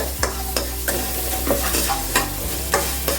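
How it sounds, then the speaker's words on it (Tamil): Garlic and rock salt roasting in ghee in a pan over low heat, with a steady soft sizzle and a spoon stirring and scraping at a loose, repeating rhythm, close by and without talk. "இந்த மாதிரி நெய் விட்டு வறுத்துக்கோங்க"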